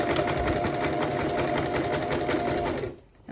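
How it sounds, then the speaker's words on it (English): Sewing machine running steadily while stitching a French seam at a quarter-inch allowance, a close, continuous motor whir with rapid needle rhythm that stops abruptly near the end. "I'm just checking to make sure that the seam is always at a 1/4 inch as I'm sewing it."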